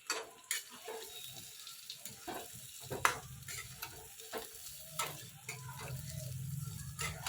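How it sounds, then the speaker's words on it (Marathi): Eggplant pieces fry and sizzle in an oiled pan with a steady crackling hiss, broken by sharp clicks and scrapes of a spoon stirring, close and moderately loud, with no talk. "खूप छान तळून झालीत वांगी."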